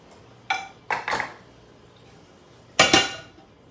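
A lid goes onto a pot of simmering kimchi soup with a few sharp metallic clanks and clatters, one short knock followed by a pair of rattling hits, then a louder clatter near the end in an otherwise quiet kitchen.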